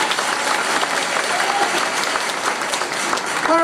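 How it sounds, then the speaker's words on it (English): An audience at the Ginoong Pilipinas KSA 2018 pageant grand finals claps loudly and steadily throughout, with a few voices near the end. "Let's give them a round of applause again."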